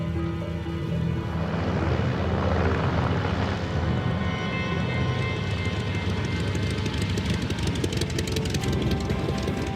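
A propeller aircraft's engine drones steadily and loudly throughout a landing attempt, a dense continuous roar with no break, close to the listener.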